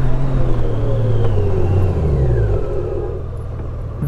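A 2023 Honda Goldwing Tour DCT motorcycle decelerates hard during a braking test, its engine and road rumble dropping steadily in pitch and fading as it slows, loud and close, with no one speaking.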